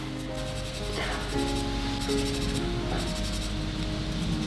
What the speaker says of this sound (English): we need to use the sanding sponge to make it a very smooth and flat surface